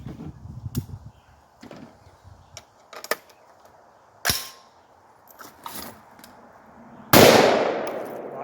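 An AR-15 rifle with a broken firing pin and missing gas ring fires scattered sharp cracks. Several faint reports are spaced irregularly, then one louder, nearer blast rings out at the end, with no talk.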